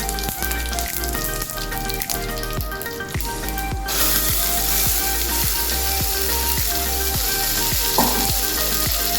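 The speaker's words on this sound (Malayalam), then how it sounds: "കടുക് പൊട്ടുമ്പോൾ കുറച്ച് കറിവേപ്പില ഇട്ട് കൊടുക്കാം" Mustard seeds and curry leaves sizzle and crackle in hot oil for a Bengal gram curry, a loud, dense, continuous frying hiss with scattered pops that swells more brightly partway through.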